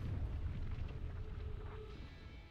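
A building collapsing after an explosion in Sunset Overdrive, heard as a steady low rumble with scattered debris crackle, fairly faint and with no speech.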